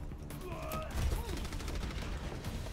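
Gunfire in the video game Overwatch during a Deathmatch round, credited to Ashe: a fast, sputtering burst of shots under a busy mix of game effects and tonal interface chimes, moderately loud, with no talking.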